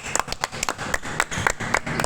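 Hands clap in a quick, steady rhythm, about eight sharp claps over two seconds, fairly close, with faint voices in the background.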